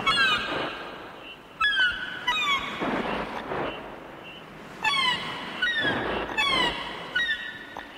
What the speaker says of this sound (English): And the call of the seagulls.